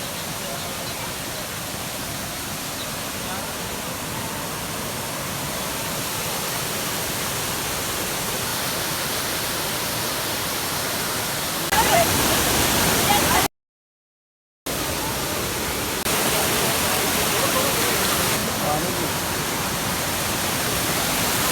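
Steady broadband rush of a waterfall at Saif ul Malook lake, a constant loud roar with no clear voices, briefly cut by a short dropout midway.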